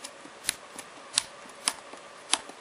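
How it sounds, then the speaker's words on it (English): Enter key on an Asus Transformer Prime tablet keyboard dock clicking five times at a steady pace, sharp faint clicks close up with no talking. "That is my enter button that's clicking."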